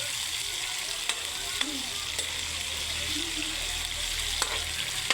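Chicken feet and chicken liver sizzle and fry in a pan, a steady crackling hiss with occasional sharp pops from stirring, and soft voices faintly in the background.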